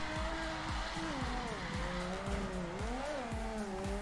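A Mazda FC RX-7 drifting in Torque Drift, its engine droning steadily with shifting pitch while tires squeal continuously under a loud, sustained wail. A voice talks quietly over it.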